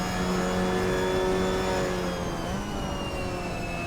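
A race car engine in Assetto Corsa, at Watkins Glen, holds a loud, steady, high-pitched drone at full throttle through a fourth-gear corner, dropping slightly in pitch as it shifts into fifth over the curb.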